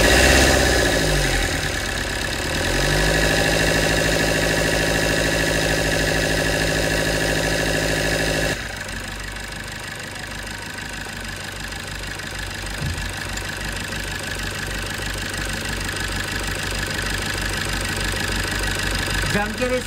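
A diesel engine revs hard during a fuel metering unit and DRV check, its loud, steady mechanical drone shifting in tone partway through and continuing with a rough, pulsing idle character.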